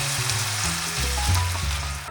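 Ground chicken frying in a pan with soboro sauce over medium heat, a steady close sizzle and bubbling running throughout with no voices.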